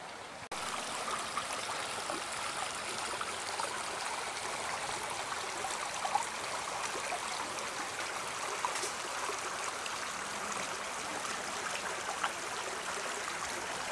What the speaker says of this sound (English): This old brook just keeps running on and running on.